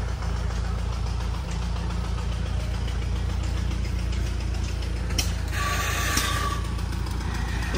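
A vintage Oliver 70 Standard tractor engine idles with a steady low chugging rumble at a tractor show, continuous and close throughout, with a brief higher mechanical whine near the end.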